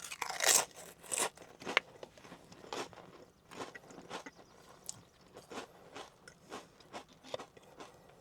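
Pringles Lite chips in grilled beer brat, beer can chicken and beer-braised steak flavors are bitten and chewed close up, starting with a few sharp, loud crunches and settling into a steady rhythm of softer chewing crunches.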